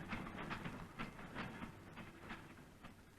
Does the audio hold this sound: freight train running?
yes